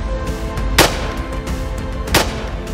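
Two loud, close shotgun blasts at clay targets on a shooting ground, spaced over a second apart, each a sharp crack with a short decaying tail over low outdoor background noise.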